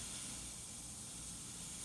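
Watery India ink sprayed past a copy paper shield onto a Claybord portrait, a continuous soft airy hiss held steady at close range with no talking.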